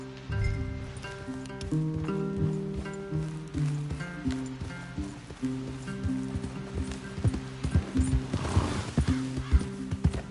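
Horses in the Red Dead Redemption 2 game clip-clopping through a wooded area, hooves thudding close and uneven over a continuous low ambient bed, with a snort or whinny and rustling near the end.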